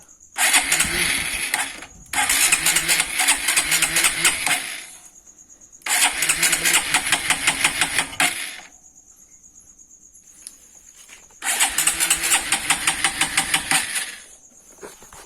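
After a carburetor adjustment a small engine is started three times and revs in loud, rapid bursts, dropping to a quieter idle between them, with a steady high whine running throughout.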